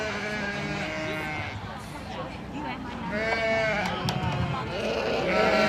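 Breeding sheep bleat repeatedly in a county fair show ring at the 2025 Sheridan County Fair, their calls rising over a background murmur of people talking.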